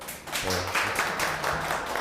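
Brief applause from an audience of teachers at a Korean teachers' union education event, honoring two teachers; a dense patter of claps with some low tonal sound mixed in.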